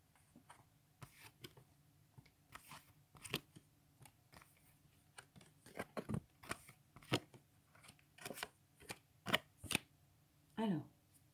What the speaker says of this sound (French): je vais retourner les cartes.